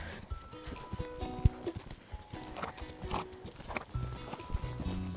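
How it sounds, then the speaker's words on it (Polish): A show-jumping horse clip-clops across an arena with rhythmic hoof beats and one short neigh, heard close, with faint tonal background sounds. "Super koń."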